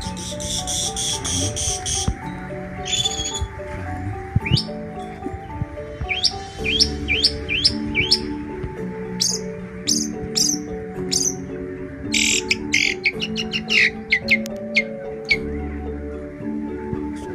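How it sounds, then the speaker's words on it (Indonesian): A long-tailed shrike sings a varied run of sharp chirps, trills and whistled phrases in a remote Central Java village, close and clear over steady background noise. "Suara burung cendet seperti ini ya pemirsa ya."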